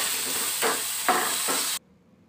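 Boiled, diced potatoes sauté in oil with tempered spices, red chilli, turmeric and chaat masala for a vada pav filling. A steady close sizzle carries three soft scraping stirs before it stops suddenly.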